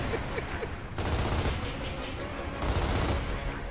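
Continuous rapid gunfire from the video game Gears of War: Ultimate Edition, dense machine-gun bursts and fusillade layered over rumbling game ambience, loud and sustained with slight swells partway through.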